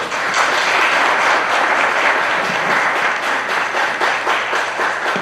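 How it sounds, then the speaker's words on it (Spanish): An audience at a conference on Mexican national identity gives a long, steady round of applause after a talk. The dense clapping stays loud and even throughout, with no voices over it. "Un gran aplauso aquí a Miguel"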